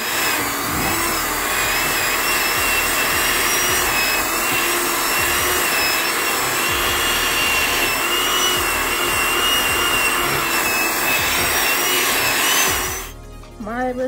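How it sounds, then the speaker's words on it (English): An electric hand mixer running on low, beating vegan chocolate cheesecake batter: a steady, close whirring motor hum that holds for about thirteen seconds, then cuts off abruptly. "I have a hand mixer."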